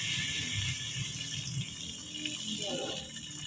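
Water pours steadily into a cooking pot while making vegetable soup with fish, a continuous close splashing flow with a faint gurgle near the end.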